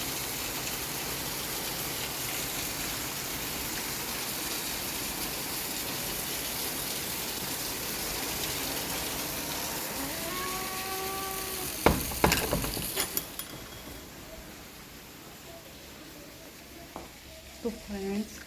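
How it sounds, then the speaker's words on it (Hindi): Heavy rain pours steadily and close, a dense continuous hiss that runs throughout, with someone talking over it and a few brief knocks and clatters near the end. "ये देखो कितनी बारिश हो रही है"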